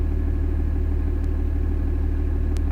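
A tractor engine idles in the Farming Simulator 20 video game, producing a constant low, droning hum with a steady mechanical throb and two brief faint clicks, and no speech over it.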